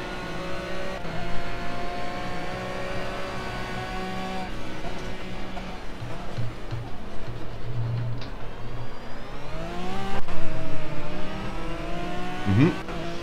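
An Aston Martin GT3 race car engine accelerates in Project CARS at night on the Zhuhai circuit, a loud steady whine that climbs in pitch with quick gear changes and a final sharp rising rev.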